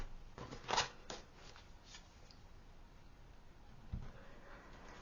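Tarot cards are shuffled and drawn by hand in a quiet room, giving a brief flurry of soft riffling and papery slides, then a lone tap near the end.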